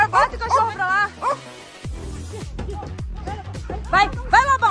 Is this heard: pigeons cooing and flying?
no